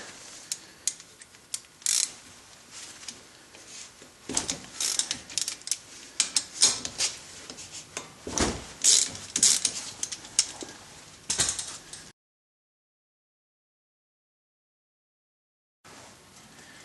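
A ratchet clicks in quick irregular bursts, loosening the front brake caliper bolts on a 2008 Dodge Avenger. The metallic clatter is close and fairly quiet, with a silent gap near the end before a brief return.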